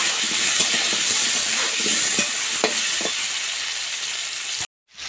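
Potato pieces with salt and turmeric fry in hot oil, a steady dense sizzle with a few soft clicks of a spatula before the sound cuts off abruptly.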